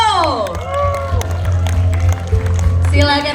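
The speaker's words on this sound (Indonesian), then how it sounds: "kita panggilkan dengan tepuk tangan yang meriah" Audience applause and cheering greet a performer arriving at an evening show, a steady crowd roar running throughout under a host's voice and musical tones.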